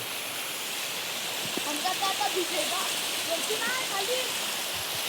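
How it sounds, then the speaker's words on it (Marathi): Steady rain falls near a river in Konkan, an even hiss of drops close around, with voices talking faintly under it. "पाऊस आला रे."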